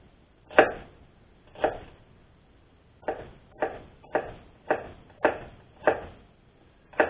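A kitchen knife slices through an onion on a cutting board in a string of about nine distinct, crisp cuts, the first two spaced apart and the rest coming quicker and evenly, close and clear with no talking.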